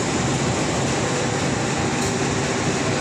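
KRL Jenggala commuter train pulling into Surabaya Pasar Turi station, a loud continuous rumbling roar of wheels and motors close by, steady throughout with no talking.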